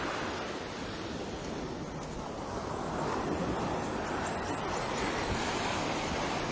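Ocean surf rolling in along the Maxwell coastline at daybreak, a steady broadband wash of waves swelling slightly louder midway, with light wind buffeting the microphone and no voices.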